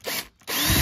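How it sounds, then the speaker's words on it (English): A power drill bores a hole through the center of a support piece, whining loudly in two bursts separated by a brief pause. "we're going to drill a hole first in the center"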